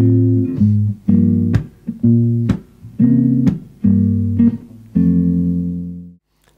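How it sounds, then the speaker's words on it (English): Guitar strings slapped with the thumb and palm for percussion, mixed into a walking bass pattern: several sharp percussive slaps land between sustained low bass notes and chords, close and clear, with no talking. "to use your thumb and this part of your palm to actually slap the strings"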